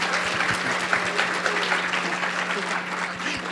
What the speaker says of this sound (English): So a round of applause to the class of 2024.